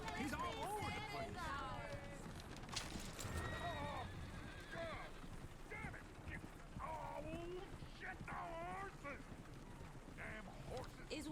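In a Western cowboy setting, a horse whinnies repeatedly while hooves clip-clop steadily beside a coach, amid a busy, continuous outdoor din.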